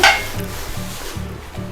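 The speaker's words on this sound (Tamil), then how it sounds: "கிளறி விட்டுக்கோங்க" Spoon stirring a boiling plain kurma in a pan with chilli powder added, a soft scrape up front giving way to a steady low bubbling simmer with faint rhythmic stirring, close and moderately loud, no voices.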